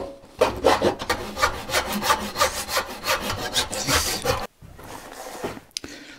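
A hand saw rips a board along the grain in rapid, steady back-and-forth strokes that sound close and loud, then stops abruptly, leaving a short quiet stretch with a faint knock.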